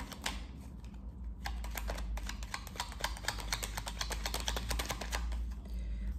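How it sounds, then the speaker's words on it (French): Tarot cards are handled and turned over on a table in quick, dense flurries of light slaps and shuffling clicks over a low steady hum, close and moderately quiet, with no voices. "Alors, on va recouvrir quelques cartes."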